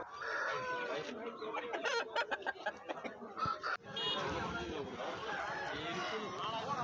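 Roosters cluck and crow in a noisy Tamil Nadu market before Pongal, several birds calling over a steady bustle of voices and crowd noise.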